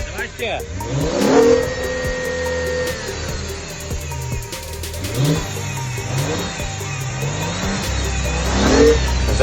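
A Maserati Ghibli SQ4 engine runs after water was cleared from its turbos and intercooler, rising and falling through a few revs amid clanking tool noises, with people talking nearby.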